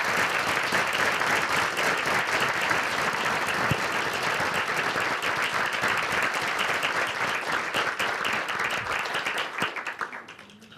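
Loud, sustained audience applause fills a university lecture hall as a guest scholar is welcomed to speak, dense and steady for about nine seconds before tapering off at the end.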